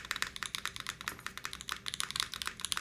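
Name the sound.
typing on KBDFans Margo keyboard with EVA switches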